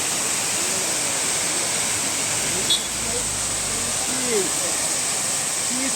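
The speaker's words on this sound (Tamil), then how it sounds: "அந்த பக்கம் ஒரு அருவி, இந்த பக்கம் ஒரு அருவி ஃபுல்லாகவே கொட்டுது" A waterfall at Nelliyampathy in Kerala pours steadily in a broad, even roar, with no voices over it and a faint click or two.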